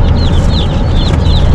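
Young chicks on a farm chirp in a close, lively run of repeated high peeps over a steady background hum, with no talking.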